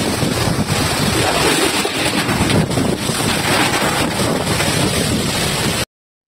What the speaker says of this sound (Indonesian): Angin yang begitu kencang